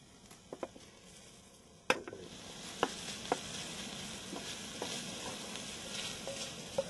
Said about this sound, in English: Fry it up just a little bit.